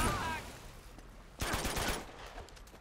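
Gunfire in the video game Uncharted 2: Among Thieves, a burst of rapid shots after a quieter stretch, loud and dense for about a second and then tapering off.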